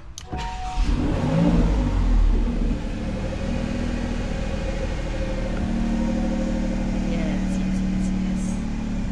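A Maserati Grecale engine turns over and settles into a steady idle rumble close by, with a brief spoken word near the start.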